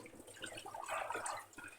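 Water running from a kitchen tap while leftover rice is cleared from dishes, a soft, fairly faint splashing stream with gurgling bursts in the middle and no talking.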